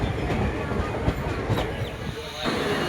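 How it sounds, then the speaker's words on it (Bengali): A train pulls into Gangatikuri station in rural Purba Bardhaman, West Bengal, giving a steady rumble and wheel clatter with faint hiss. The sound is close and continuous, and some voices are faintly present. "ট্রেন ঢুকছে আবার গঙ্গাটিকুড়ি স্টেশনে"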